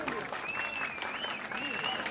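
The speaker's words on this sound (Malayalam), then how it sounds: "എല്ലാവരും ഒരു നിറഞ്ഞ കയ്യടി കൊടുക്കണമെന്ന് അറിയിക്കുകയാണ്" Steady applause from an audience at a traditional kaikottikali dance troupe performance, dense clapping sustained throughout with a crowd murmur and a voice in the background.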